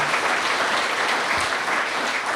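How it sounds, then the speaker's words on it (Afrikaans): Loud, dense applause from a crowd at an outdoor religious commemoration festival, sustained hand clapping for a singing group that fills the whole stretch without a break. "Kom ons gee hulle net 'n lekker harde hande klap."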